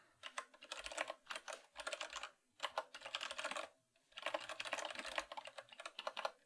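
Rapid keystrokes on a computer keyboard, close and clear, coming in quick bursts broken by short pauses, with no voices over them.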